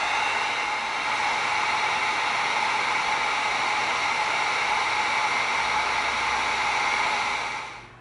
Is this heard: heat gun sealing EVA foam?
yes